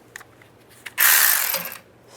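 A ratchet turns a starter cover bolt on a 2007-2013 Chevy Silverado, giving a close, loud rapid clicking burst of about a second after a couple of faint taps.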